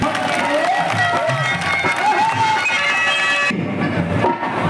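A political rally crowd applauds, clapping mixed with cheering and shouts, loud and continuous, cut off abruptly near the end with a lower rumble remaining.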